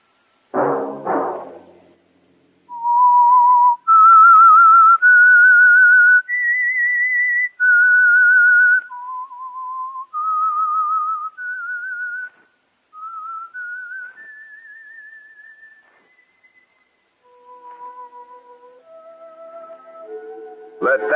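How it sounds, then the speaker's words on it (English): A lone whistler carries a melodic theme tune for a 1948 radio mystery drama, sustained clear notes stepping up and down in phrases, loud and close with short pauses between lines. "Let that whistle be your signal from the Whistler."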